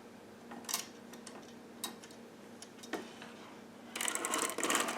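Sister toy knitting machine carriage drawn slowly across a row of purple yarn, giving sparse ticks and clicks, then a denser rattling burst near the end, close and fairly quiet.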